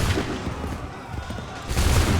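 A musket volley in the video game Assassin's Creed 3, a dense crackling burst of gunfire opening the clip, a lull of softer noise, then a second roaring burst near the end.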